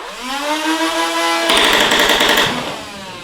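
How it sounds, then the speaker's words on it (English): A motorized toy blaster whirs as its motor revs up, then fires a rapid full-auto burst of clattering shots for about a second before winding down. "Sounds like a freaking power tool when it revs up there"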